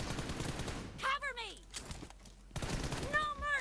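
Rapid bursts of gunfire in the PUBG Mobile game, sounding dense at the start and end, with a voice talking between the volleys.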